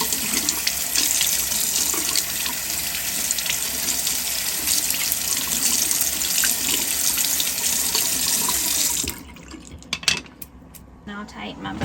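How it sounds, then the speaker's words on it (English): Running tap water splashes steadily over a composting toilet's fan screen being rinsed in a sink, a loud continuous stream that cuts off near the end, leaving faint clinks and handling noises. "So you just rinse it off."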